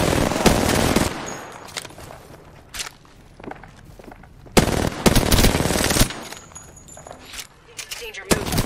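Bursts of automatic gunfire in a Halo-style shooter, several loud dense volleys separated by quieter stretches with shuffling movement, near and punchy, with in-game voice callouts mixed in.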